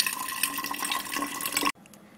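Filtered water is poured into a container of dry almonds to soak them, giving a steady splashing, trickling fill that ends abruptly, followed by near quiet.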